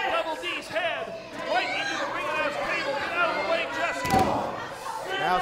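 Wrestler slammed head first into the ring apron at an IZW independent wrestling show, a heavy thud near the four-second mark under loud commentary and crowd noise.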